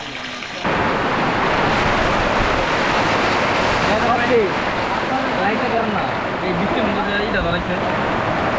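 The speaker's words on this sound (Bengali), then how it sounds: "প্রচুর বৃষ্টি নামতেছে, আমরা একটা দোকানের নিচে আশ্রয় নিছি।" Heavy rain and strong wind pour down at Sajek Valley while people shelter under a shop's tarpaulin, a steady loud roar of downpour and gusts with voices talking faintly underneath.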